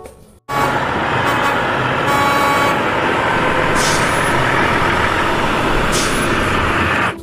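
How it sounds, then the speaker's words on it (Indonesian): A tow truck engine roars loud and steady at close range for about seven seconds after a brief quiet start, with faint hissing bursts over the rumble. "Widih, lihat ada mobil derek teman-teman."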